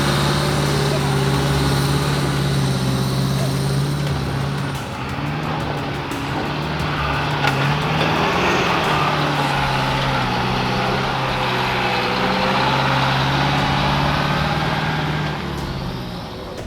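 Truck driving through a hole on the Old Coach Road in Gulf Country and Cape York, a loud steady engine drone with a low pitch that shifts slightly as it labours, continuous and close throughout.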